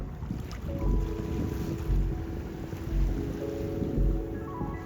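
A sailboat runs under engine out on the open ocean, with a steady low motor drone under gusty wind buffeting the microphone and slow, periodic swells of water noise against the hull.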